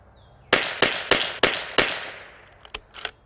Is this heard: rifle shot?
yes